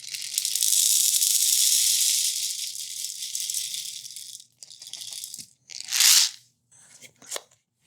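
Orville popcorn kernels poured from a lid into a popcorn popper, a loud close rush of hard kernels rattling for several seconds, then a few shorter bursts of clattering as more kernels drop in.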